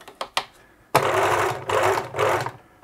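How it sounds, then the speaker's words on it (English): A 1980s Singer Futura sewing machine, a salvaged unit, whirs through three motor bursts of about half a second each after a few faint clicks, loud and close with no talk. "the motor sounds okay"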